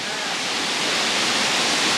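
Roar of the Nohkali-kai waterfall in Meghalaya, a loud, dense, unbroken rush of falling water close by, steady throughout with no voices over it.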